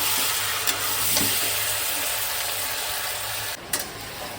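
Meat cooking in a pan on a home stove during a family day, a steady close sizzle and crackle of frying that runs throughout, with a few brief stirring knocks and clinks over it.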